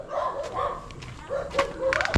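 Dogs barking intermittently at a distance along a long rural road in the Philippines, a few scattered barks followed by a sharper clatter near the end, over faint outdoor noise.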